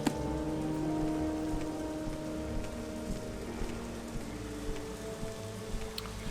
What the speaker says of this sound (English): It's raining, but we have a robe with a hood.